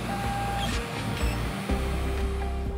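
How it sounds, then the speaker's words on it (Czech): A delta-style 3D printer with three arms runs in a university engineering workshop, giving a steady close mechanical whir with shifting stepper-motor tones and a few pitch changes. "Tato tiskárna funguje na systému Delty"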